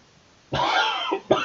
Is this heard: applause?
no